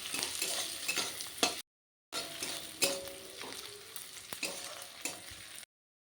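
Garlic fries in a pan with a close, steady sizzle and a few sharp stirring knocks. The sizzle breaks off briefly in the middle, then resumes before stopping.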